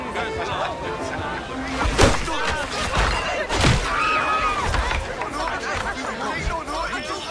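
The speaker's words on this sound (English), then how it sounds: "In the distance, we have a tavern that we're approaching." In the Assassin's Creed 4 video game, a tavern crowd murmurs in busy overlapping chatter, with occasional thuds and knocks rising over the steady babble.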